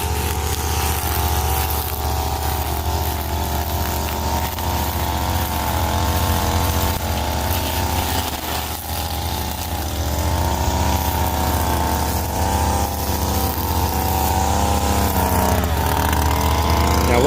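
Lawn mower trimming around rocks, with a steady engine drone running close and loud throughout and only slight shifts in pitch.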